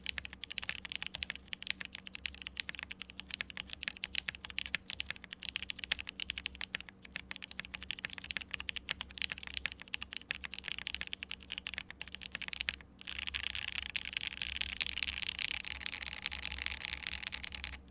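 Typing on a Larva keyboard with Nixie switches, GMK Symbiote keycaps and a PP plate without foams, in sandwich mount and O-ring, gives a fast, steady stream of close, fairly quiet clacks with no voices.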